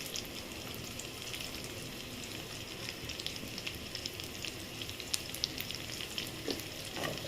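A quiet, continuous frying crackle from a sautéed tempering for radish sambar with asafoetida powder added, with scattered small pops and light stirring over a steady hiss.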